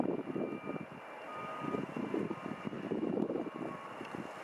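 An airliner's engines roar steadily as it departs from a runway at Vancouver airport, a continuous loud rumble with a fluttering rise and fall and no voices.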